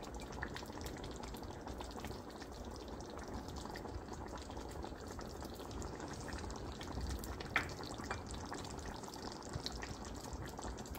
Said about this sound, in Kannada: ಇವಾಗ ಕುದೀತಾ ಇದೆ.